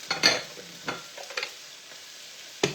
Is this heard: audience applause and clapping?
no